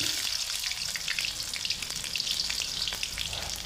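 Crushed garlic and mustard seeds sizzle in hot oil, with a dense, steady frying hiss peppered with sharp little pops and crackles, close up and continuous.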